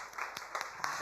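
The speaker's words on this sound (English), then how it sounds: "So I'd like us to start with a huge round of applause, please" An audience at an animation festival talk in Mumbai applauds, with scattered hand claps heard faintly and at a distance across a short stretch.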